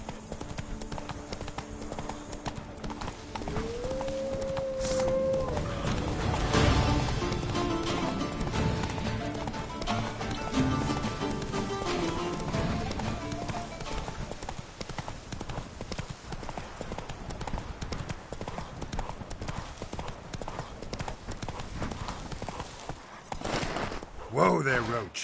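Roach, a horse in The Witcher 3 video game, gallops in steady clip-clop hoofbeats with brief whinnies and other game sounds layered over the hooves.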